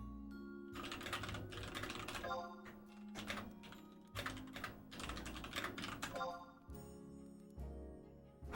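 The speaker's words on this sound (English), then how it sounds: "Very much can hear the keyboard." Clacky computer keyboard typing in rapid bursts with short pauses between, close and crisp, some clicks louder than others, with faint background music and occasional talk.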